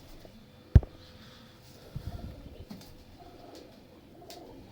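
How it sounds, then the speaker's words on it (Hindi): Kept domestic pigeons coo softly at a loft, with low, faint throaty calls beneath quiet background noise. A single sharp thump comes early on. "ये दोस्तों सारे मिस्त्रियों वाले कबूतर हैं।"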